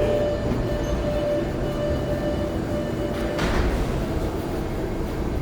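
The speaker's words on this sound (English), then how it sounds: "There's our train." An MBTA subway train at Haymarket station fills the space with a steady, close rumble and a faint sustained whine, with a brief swell of hiss about two-thirds through.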